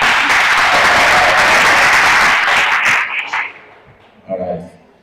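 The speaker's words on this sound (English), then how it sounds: "let's give them a round of applause" An indoor audience at a work readiness training day gives a loud round of applause that fades out after about three seconds, followed by brief quiet movement and a short voice.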